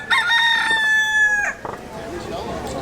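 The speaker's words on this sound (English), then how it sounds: "Y'all hear that rooster?" A rooster crows loudly and close by on a Hawaiian island where chickens roam freely, one long drawn-out call, followed by softer background noise.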